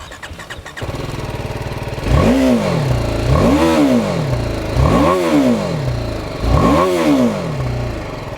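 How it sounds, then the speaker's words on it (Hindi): BMW G 310 R single-cylinder motorcycle, BS6 compliant, starting and then revved four times in a row, each throttle blip swelling and falling with a harsh, rattly exhaust note, loud and close. "इसका एग्जॉस्ट नोट बहुत ही रैटली है।"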